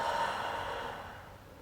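A long audible exhale during a yoga animal pose, breathy and steady, loudest at the start and slowly fading over about a second and a half, with no talking.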